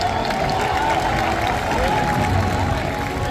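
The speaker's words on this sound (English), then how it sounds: "Everyone, please give them a big round of applause here" A crowd at a SeaWorld San Diego orca show claps and cheers in a broad, steady wash of applause from the stands, with an amplified voice and crowd murmur beneath.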